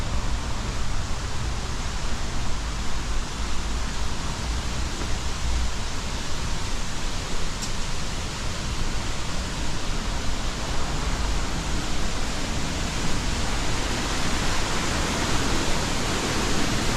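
Steady, loud rushing of a waterfall beside the Tennessee River riverfront in Knoxville, a continuous broadband roar that holds evenly from start to finish with no voices.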